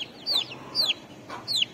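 Young Assel parrot chicks give three sharp, descending high-pitched calls at an even pace, close by and fairly loud.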